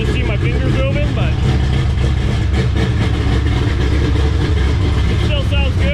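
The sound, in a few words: race car engine running with mufflers on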